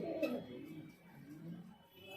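Highflyer pigeons in a loft coo softly and close by, with a stronger rolling call at the start followed by quieter, intermittent murmuring.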